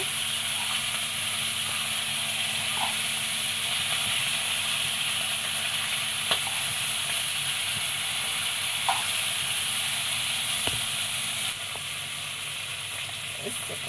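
Fish pieces frying in hot coconut oil in a pan give a dense, continuous close sizzle with a few faint clinks and pops, and a voice speaks softly now and then.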